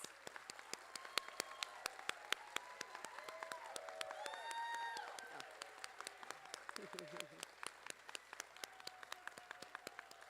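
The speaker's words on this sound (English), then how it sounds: "One more round of applause for all of our graduates." Applause for graduates at a nursing pinning ceremony: sharp, evenly spaced claps ring out close by, with whooping and cheering voices rising briefly in the middle.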